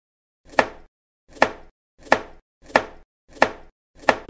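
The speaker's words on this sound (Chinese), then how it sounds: "先把葱白切碎，和姜蒜末放在一起，再把葱叶切成葱花" A kitchen knife chops spring onions on a cutting board, six crisp, evenly spaced thuds about two-thirds of a second apart, close and clear with no talk.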